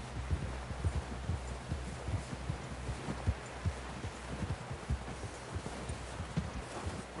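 Horse hooves clip-clop at a steady walking rhythm in the Western video game Red Dead Redemption 2, dull, close thuds over a low rumbling background with no talking.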